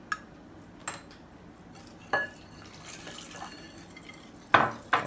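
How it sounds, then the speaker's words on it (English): A whisk stirs strawberry Jello powder into two cups of boiling water in a bowl, soft liquid swishing under occasional sharp clinks of metal against the dish, close and moderately quiet. "So we have 2 cups of boiling water here. And we're just going to whisk that in."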